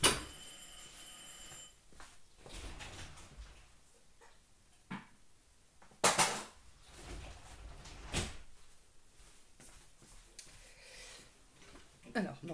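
A telephone rings briefly at the start, followed by a few clattering knocks and handling noises in a quiet indoor room, with a person talking faintly.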